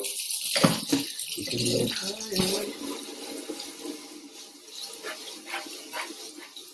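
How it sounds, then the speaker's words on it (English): Running water splashing over a kitchen strainer being rinsed under a tap, a faint gushing and spattering with clinks of handling, fading into quieter trickling as someone talks. "I'm going to rinse out this strainer"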